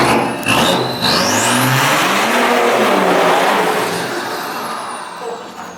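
A BMW 335d diesel car engine revs up loudly and climbs through the gears as it accelerates hard past close by, the roar slowly fading.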